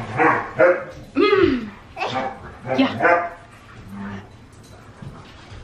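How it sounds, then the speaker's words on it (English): Dogs bark and yip excitedly in the background while a person talks over them, the barking coming in short bursts. "pardon my dogs in the background, but they're crazy"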